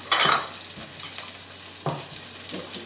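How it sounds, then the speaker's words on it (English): Onions, garlic and ginger frying in a pan, a continuous close sizzle with two bursts of louder hissing as ingredients hit the oil or are stirred. "Now you put on the onions, garlic, and the ginger."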